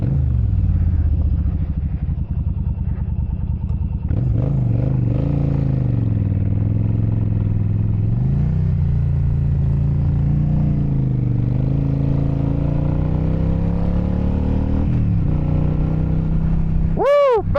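A heavy long-distance motorcycle engine drones steadily up close, its pitch rising and falling with throttle changes as the bike is ridden, with a brief sharp tone at the very end.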